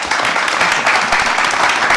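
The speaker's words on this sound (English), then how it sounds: "please give a round of applause" Audience at a summit panel applauding, a dense, loud burst of many hands clapping that holds steady for the whole two seconds.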